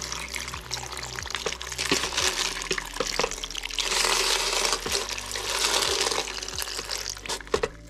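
Water is poured into a rock tumbler barrel holding stones, a splashing, gurgling flow rising and falling in surges, with a few knocks and clinks from the barrel along the way.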